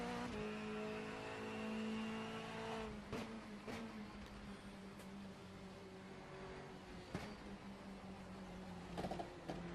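A 2016 BMW 1 Series rear-wheel-drive touring car on a test track, engine droning steadily with a few sharp revs and clunks, fairly quiet and without talk.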